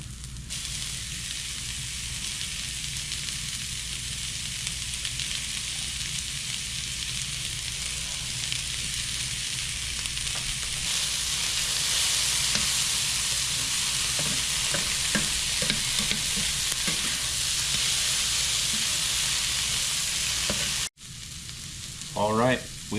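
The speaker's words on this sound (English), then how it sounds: "we can add our peppers, keep sauteing" Onions, peppers and garlic sizzle steadily in a hot pan, a continuous close frying hiss with occasional stirring scrapes, cut briefly by a short pause near the end.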